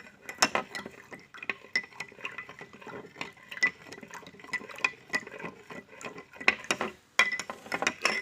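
A spoon stirs salt into a thickening near-saturated water solution in a glass, giving repeated clinking and scraping taps in an irregular rhythm, close and fairly clear with no talk.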